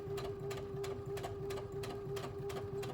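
A sewing machine stitching fabric for a children's cloth face mask, a fast, even mechanical clatter with a steady motor tone underneath, running continuously for the full three seconds without pause.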